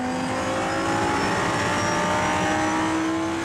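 An Audi race car in a Dutch Supercars round at the Assen circuit accelerates hard, its engine roaring loud and steady with a rising pitch throughout, close and continuous, with no talk over it.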